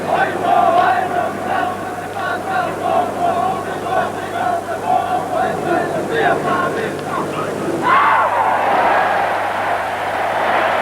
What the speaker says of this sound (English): Great round of applause for the Western Samoans